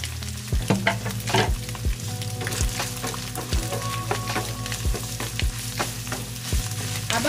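Ground beef and garlic sizzle steadily in a hot pan, with a spatula scraping and stirring at a regular beat over the constant frying hiss.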